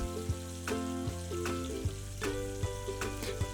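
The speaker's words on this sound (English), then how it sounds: "add about 12 ounces of andouille or another Cajun-style sausage to the hot oil. Sauté until it's just starting to crisp around the edges" Andouille sausage sautéing in hot oil in a Dutch oven, a quiet sizzle with a few scattered ticks and pops, heard under a sustained musical backing with no talking.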